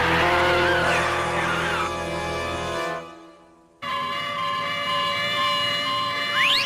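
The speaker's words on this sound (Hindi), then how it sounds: "ये सब एम्बुलेंस कहाँ जा रही हैं?" Wailing sirens over rumbling traffic, cutting out briefly before returning loud with rising, sweeping tones of several emergency vehicles passing close.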